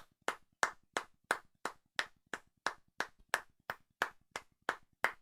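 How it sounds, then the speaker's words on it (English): Applause for a birthday: a small group of hands claps in a steady, even rhythm, about fifteen crisp claps in quick succession, fairly quiet and alone with no talk. "Let's give her a few claps for a birthday for Liz."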